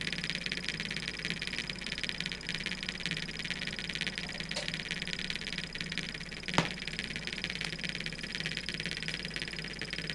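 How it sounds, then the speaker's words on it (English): A small Keppe motor, a Brazilian-designed back-EMF electric motor started by a battery, runs with a steady high-pitched whine and constant hum, with one brief click partway through. "This motor was conceived in Brazil and it works with the back electromotive force."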